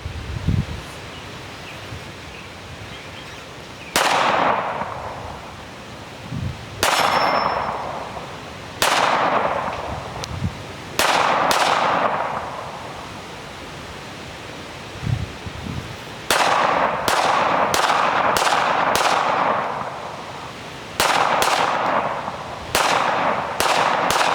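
Pistol caliber carbine shots on an outdoor range, about a dozen sharp loud cracks at irregular intervals, each with a ringing hit on steel targets and a short echoing decay.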